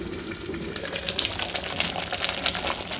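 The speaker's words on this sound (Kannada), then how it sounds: "ನೋಡಿ, ಈ ರೀತಿ ಕುದಿ ಬರ್ತಾ ಇರ್ಬೇಕಾದ್ರೆ" A pot of chicken sambar bubbles and boils steadily, with soft popping and gurgling over a continuous hiss, close by and fairly quiet.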